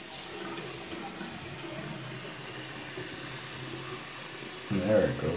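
Water runs steadily from a tap over a Bubble Guppies Molly bath toy's hair, a constant splashing hiss with a brief louder gush near the end.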